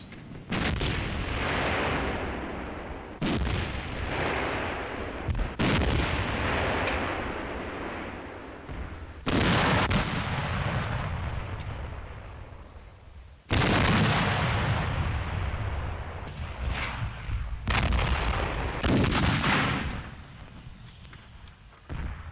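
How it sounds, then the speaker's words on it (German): Heavy-calibre artillery fire booms repeatedly, each loud blast rolling into a long rumbling echo, one after another at uneven intervals. "Der Feind antwortet mit schweren Kalibern."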